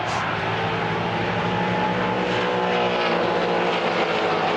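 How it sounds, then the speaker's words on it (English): A loud, continuous roar of Mustang race car engines fills the whole front straight at Phillip Island at the race start, a dense pack of cars blaring past without letup. "hearing all of those cars come down the front straight there for the race start"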